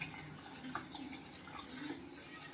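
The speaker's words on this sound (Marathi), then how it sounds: "यात आता आपण असं गरम पाणी टाकणार आहोत, जेवढे की आपल्याला पातळ पाहिजे" Hot water is poured into cooked dal for a tamarind-jaggery varan, a faint, continuous splashing stream heard close by at low volume.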